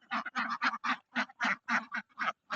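Ducks on a duck farm quack in a close, loud run of about ten evenly spaced calls, with no voices over them.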